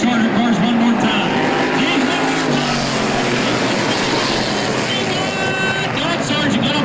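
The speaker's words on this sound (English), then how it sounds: "Here comes the green flag. The hammers drop on the Charger cars one more time." Charger race cars roaring together as the field takes the green flag at a feature race, a dense, loud, sustained engine drone with a commentator talking over it.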